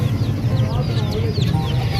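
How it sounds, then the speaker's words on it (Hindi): Chickens cluck and chicks peep at a busy Sunday bird market at Shalimar Bagh, Lahore, a lively close mix of low clucks and high chirps with people talking underneath. "चूज़े भी आ चुके हैं।"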